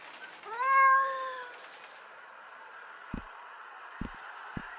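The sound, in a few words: cat meowing in Sally Face video game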